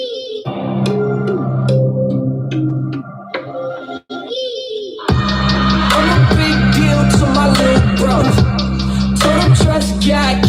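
Remix of a song: a mellow layered intro with sustained tones gives way after a brief gap to a full, loud beat with heavy bass, punchy drums and bright synths, steady to the end.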